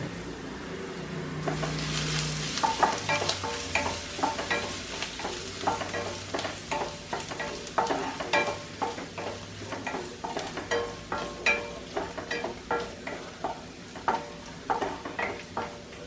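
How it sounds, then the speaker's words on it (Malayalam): Chopped ginger and garlic sauté in a pan over a low-medium flame. A soft, continuous sizzle runs under repeated close stirring and scraping strokes that settle into a steady rhythm. "ഇത് രണ്ടും കൂടെ ഒന്ന് ലോ ടു മീഡിയം ഫ്ലെയിമിലിട്ടിട്ട് നമുക്കൊന്ന് വഴറ്റിയെടുക്കാം."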